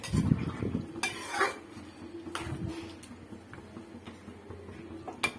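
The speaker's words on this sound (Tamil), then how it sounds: "எல்லாத்தையும் நல்லா மிக்ஸ் பண்ணி விடுங்க" Chettinad chicken gravy mixed with ground masala in a pan: close spoon scrapes and knocks against the vessel with a soft sizzle underneath, a few sharper taps standing out.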